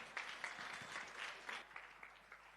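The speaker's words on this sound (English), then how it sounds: "let's give a massive round of applause to our presenters" Quiet applause from an audience for event presenters, a scattered patter of hands with a few sharper claps standing out, heard faint and at some distance.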